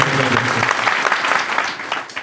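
Applause from a crowd at a Bharatiya Janata Party political rally, a dense burst of clapping that continues steadily throughout and fades slightly at the end.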